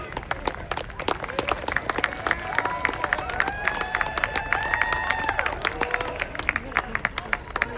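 Outdoor crowd applause and scattered cheering at an Armed Forces Day parade in Torrance, California, with sharp individual claps spread across the whole stretch and a crowd murmuring underneath.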